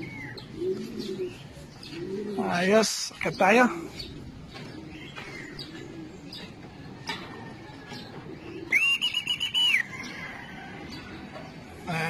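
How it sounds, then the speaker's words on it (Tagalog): Racing pigeons of a young-bird team arriving at their loft after a first training toss from a truck, with brief cooing and chirps, a few wing flutters and one sharp high call, while someone speaks over it. "Ayan, nagdadaanan na yung mga ibon."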